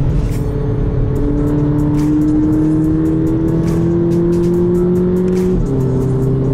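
A 2018 Volkswagen Polo GTI drives and accelerates, its engine drone climbing steadily in pitch before a brief dip at a gear change, loud and continuous from inside the car.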